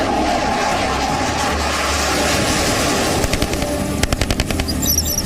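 Military fighter jets roar past in a loud, continuous rush of engine noise, joined near the end by rapid bursts of machine-gun-like gunfire.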